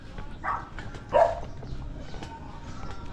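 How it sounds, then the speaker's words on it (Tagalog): Dogs bark twice at a house where a fence is being painted, the barks faint and distant, in quick succession over quiet outdoor background noise. "Yan, yung mga aso"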